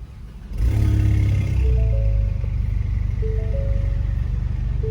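A Ford Mustang EcoBoost engine running E30 fuel, fitted with an aftermarket wastegate and spark plugs, cranks and fires, jumping to a loud rev before settling into a steady, close idle.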